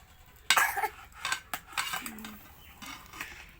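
A spoon or ladle stirring fish curry in a pot, with a few close clinks and scrapes of metal against the vessel in irregular bursts and a faint simmer beneath, no talking.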